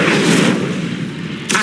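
Incendio fire spell cast in Hogwarts Legacy, a loud sustained whooshing burst of flame up close with a short second flare at the end.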